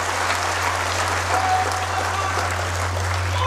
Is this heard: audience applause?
yes